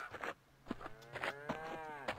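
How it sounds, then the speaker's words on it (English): Cattle mooing in a video game while fighting wolves, several moos in a row, the drawn-out calls rising and falling over a soft background hum with no talking. "cows and wolves are fighting"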